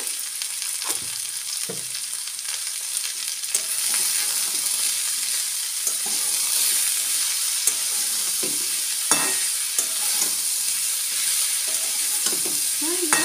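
Chopped vegetables sizzle in a hot pan, a continuous close frying hiss broken by repeated spatula scrapes and stirring knocks at irregular intervals.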